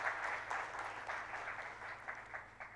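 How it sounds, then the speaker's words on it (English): Faint, distant round of applause welcoming the speaker at a CA professional event, steady crowd clapping with a few rhythmic pulses, soft and diffuse throughout. "May I please request all of you to once again welcome Sir with a thundering round of applause"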